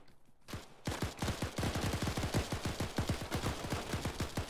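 Rapid automatic gunfire in the video game ArmA 3 during a Falklands campaign operation, a long dense string of sharp shots in quick rhythm, fairly faint and without talk.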